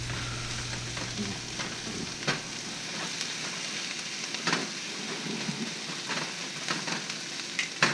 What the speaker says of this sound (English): you're going to continue to cook these on a high heat.